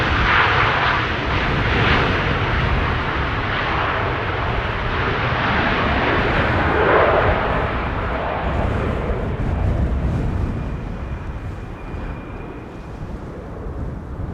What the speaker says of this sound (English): This is KLM flight 1816 and number 190 arriving from Frankfurt.